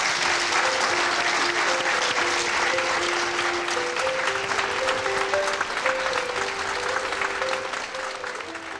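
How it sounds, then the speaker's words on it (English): A studio audience applauds a portrait artist as her painting is unveiled, dense, continuous clapping filling the room at moderate distance, holding steady throughout with a faint tonal line beneath. "another round of applause for Christabel Blackburn."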